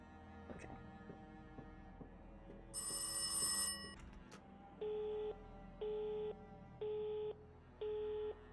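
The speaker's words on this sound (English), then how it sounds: "Ringtones." Telephone rings in the horror game Rise of Insanity: four evenly spaced electronic ring bursts, loud and close, following an earlier sharp tone, with no talking.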